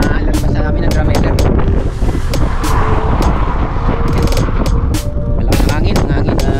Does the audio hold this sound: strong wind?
yes